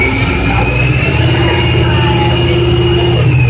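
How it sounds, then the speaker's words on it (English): A Detroit Diesel Series 50 engine of a 1998 Gillig Phantom bus idles loudly and steadily, with a continuous heavy hum and a high whine rising slowly above it. "So you can hear the engine now."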